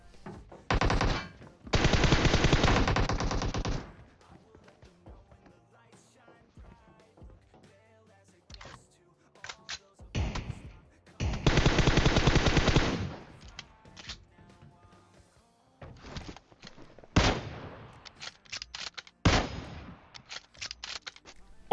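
Automatic gun fire in the PUBG Mobile game comes in several short sustained bursts and scattered single shots, loud and separated by quiet gaps, with a voice talking faintly between them.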